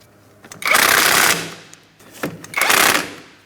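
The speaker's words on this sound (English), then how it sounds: "Now we're going to snug this hardware." Bolts on a front CV axle of a 2004-2008 Pontiac Grand Prix 3.8L V6 are snugged with a power tool in two loud, close rattling bursts of about a second each, separated by a short pause.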